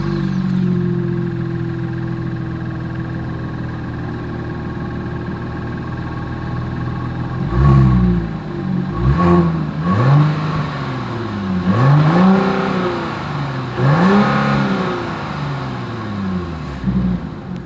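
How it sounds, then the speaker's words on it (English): A 2022 Genesis GV80 with dual exhaust idles steadily, then is revved several times in a row; each blip climbs and falls back, loud and close, with no talking. "As always, here is that exhaust clip."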